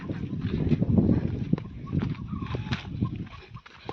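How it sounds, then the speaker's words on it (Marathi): Hens clucking in short irregular bursts close by, with scattered rustling and knocking noises around them and no talking. "कॉक कॉक कॉक कॉक कोंबड्या"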